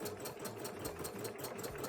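A sewing machine doing free-motion embroidery runs steadily, its needle beating in a fast, even mechanical rhythm under a low motor hum, close by and fairly quiet, with no talk.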